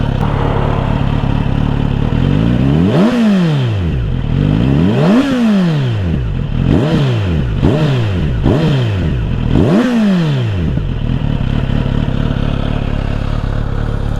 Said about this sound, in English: Let's check out the sound of this stock exhaust then